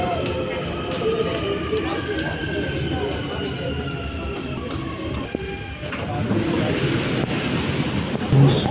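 A metro train runs with a steady rumble and low drone, and faint tonal whines from the motors sustain throughout. The rumble grows slightly louder toward the end, with distant voices mixed in.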